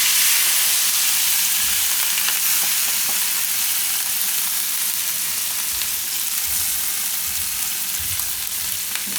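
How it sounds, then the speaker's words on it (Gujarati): Thecha masala with asafoetida roasting in hot oil, a loud continuous hissing sizzle that holds steady throughout. "તો તેલમાં આ રીતે થોડીક વાર શેકી લેવાનું"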